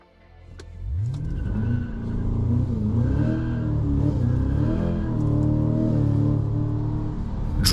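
Cadillac CT5-V Blackwing V8 sports sedan pulling away on the road, its engine note climbing and falling through steady acceleration, loud and close throughout with a deep rumbling drone.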